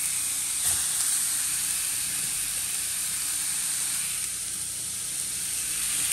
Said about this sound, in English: Ah! Sizzling!